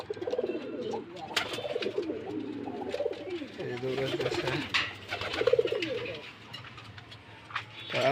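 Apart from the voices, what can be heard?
Rajgolla pigeons cooing after being released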